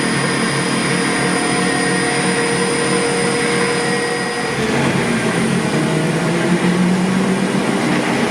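A 2 kW electric motor driven through a small speed controller spins with a steady loud whine and hum, its pitch shifting slightly midway, continuous and close with no voices.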